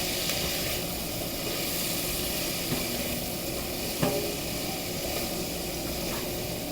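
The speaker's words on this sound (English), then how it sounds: "And you just toss them around because we just sauteing these up." Asparagus sautés in a hot pan with a dense, steady sizzle and hiss throughout, broken by a couple of faint knocks as the spears are tossed.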